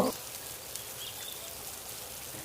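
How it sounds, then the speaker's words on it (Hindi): Steady rain falls with a soft, even hiss throughout, and a brief louder splash comes at the very start. "अरे, ये बारिश तो बढ़ ही गई है।"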